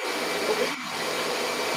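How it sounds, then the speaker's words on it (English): Vacuum cleaner switched on by a dog sitting on it, giving a loud, continuous broadband roar with one brief dip partway through, close and steady, with no talking. "I think a dog just sat on a vacuum cleaner."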